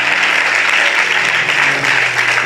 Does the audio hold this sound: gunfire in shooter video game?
no